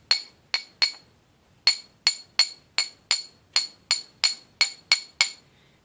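A hammer taps in a fake nail-in-the-nose Halloween prank. About fourteen sharp, bright strikes come close up: three quick ones, a short pause, then a steady run of evenly spaced taps, with silence between the hits.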